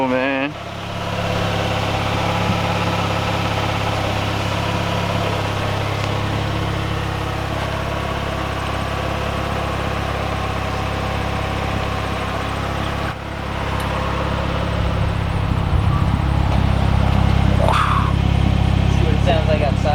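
A warmed-up Mazdaspeed Protege5 turbo idles with a steady, close rumble. The engine note swells near the end as if revved, and a short hiss is heard.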